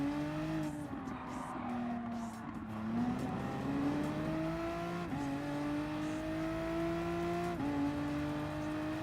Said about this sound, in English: those gear shifts, man, they sound so good